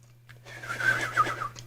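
A voice imitates a warbling water whistle, a wavering, trilling tone that rises and bubbles for about a second over a low steady hum.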